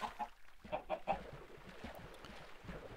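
Chickens in the video game Minecraft cluck in short repeated bursts, several birds close together, with a busy run of clucks early and scattered softer ones after.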